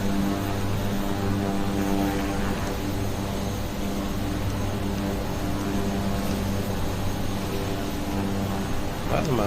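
In Microsoft Flight Simulator, a Kodiak 100 single-engine propeller plane taxis to the runway in Papua New Guinea, its engine holding a constant loud drone with a steady tonal hum. A voice speaks briefly over it.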